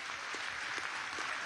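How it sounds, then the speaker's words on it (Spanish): A crowd gives standing applause for women of Venezuela's Táchira and Zulia states at a political gathering: dense, continuous clapping heard steady and fairly faint, as if from a distance, with no voices over it. "Un aplauso de pie para las mujeres del estado Táchira"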